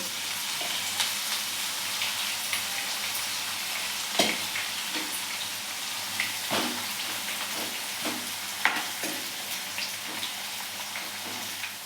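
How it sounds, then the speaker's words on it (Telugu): Bitter gourd pieces fry in hot oil with a steady, close crackling sizzle, broken by occasional sharp clinks and scrapes as pieces are added and stirred. "ఇలాగే కొన్ని కొన్ని ముక్కలు వేసుకుంటూ వేయించాలండి"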